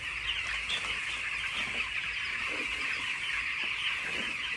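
Young chicks and hens cluck and cheep steadily in a poultry coop, a continuous close chorus of chirping with no talk.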